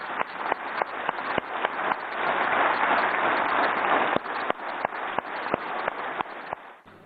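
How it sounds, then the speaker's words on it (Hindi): Sustained applause from members of parliament standing in the chamber, steady and dense clapping that swells and continues throughout, with sharp individual claps standing out near the end. "मैं चाहूंगा कि सदन एक बार खड़ा होकर तालियां बजाकर उनका अभिवादन करे।"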